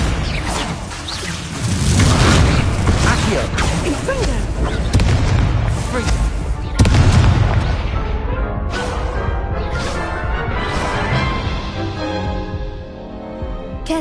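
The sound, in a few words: Confringo and Incendio spell blasts, Hogwarts Legacy video game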